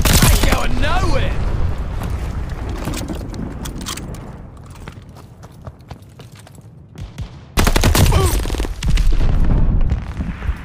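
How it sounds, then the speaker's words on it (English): Explosions and gunfire in Call of Duty Vanguard multiplayer as an enemy glide bomb comes in; loud bursts of shots and booms open the clip, fade to scattered distant cracks, then return with another heavy barrage. "Got an enemy glide bomb on the way."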